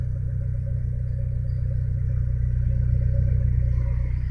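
A car's engine idles steadily on FT500 fuel injection, a smooth, even low rumble with a faint mechanical clatter, holding a constant speed throughout with no dips.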